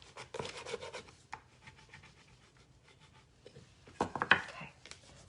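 Stencil decor transfer being burnished by hand-rubbing, giving soft scratchy rasps in quick bursts near the start and again near the end, with a quiet pause between.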